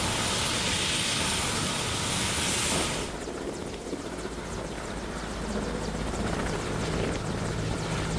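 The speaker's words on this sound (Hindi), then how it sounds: "एक जगह से दूसरी जगह पेपर ट्रांसपोर्ट करने के लिए एयरफोर्स के हेलीकॉप्टर्स का यूज किया जा रहा है" An Air Force helicopter flies overhead, its loud, steady rotor roar filling the scene and shifting slightly in tone partway through as it passes.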